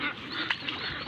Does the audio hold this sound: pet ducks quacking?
yes